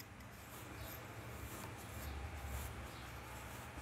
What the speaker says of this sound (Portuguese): Aí vocês vão pegar e cortar em cima